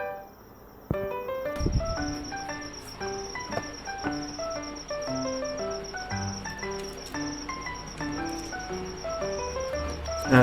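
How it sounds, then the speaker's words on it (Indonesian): Crickets kept as live food for a pet leopard gecko chirp in steady, overlapping pulses, close and fairly loud, with no talking over them. "Nih, ini gue udah siapin jangkrik buat ngasih dia makan nih."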